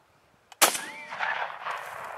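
A single loud, close gunshot from a Lee Enfield No.1 Mk III .303 rifle cracks out of near silence, then a long rumbling echo rolls on and fades slowly.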